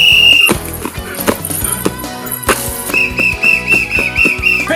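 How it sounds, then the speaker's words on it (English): A referee's whistle in a football video game blows in sharp shrill bursts over dense, loud game sound and music, with stadium noise throughout. "I got a whistle too"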